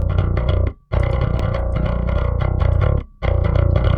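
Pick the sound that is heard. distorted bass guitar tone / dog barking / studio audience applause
distorted bass guitar tone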